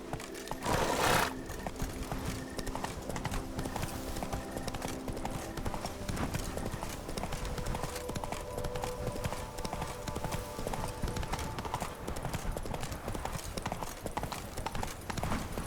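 In The Witcher 3, a horse gallops with rapid, continuous hoofbeats, preceded by a brief whinny near the start, all steady and moderately loud against game ambience.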